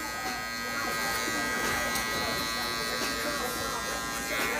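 An electric hair clipper buzzes steadily as it cuts a short men's comb-over fade, staying close and constant under someone talking through the cut.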